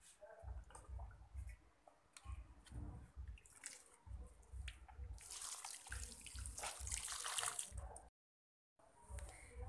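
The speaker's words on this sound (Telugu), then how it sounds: "ఇప్పుడు దీనికి నీళ్లు పోసుకుందాం." Water poured onto newly planted maruvam cuttings in a pot, soft repeated splashing and trickling in short bursts close by, quiet, with a brief gap near the end.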